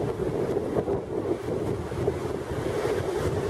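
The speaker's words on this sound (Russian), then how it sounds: "Волны очень сильно шумные." Ocean waves roar continuously at a beach in Santa Cruz while wind buffets the microphone, a loud, steady wash of surf with gusty rumble and no voices.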